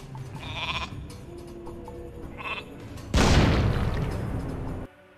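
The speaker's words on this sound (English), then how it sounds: "being able to click sheep multiple times to make them explode" Sheep in the real-time strategy game Warcraft 2 bleat in short, loud cartoonish cries, followed by a sudden booming explosion as a clicked sheep blows up, the blast rumbling for about two seconds.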